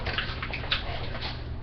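Water poured into a pan for making queso, a steady close splashing and gurgling stream that runs evenly throughout the short moment without talk.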